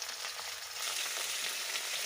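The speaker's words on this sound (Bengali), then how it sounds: "দেখো তরকারিটা ফুটছে" A pot of curry with mustard greens, before pabda fish is added, simmers with a steady, close bubbling sizzle that runs continuously without any talk.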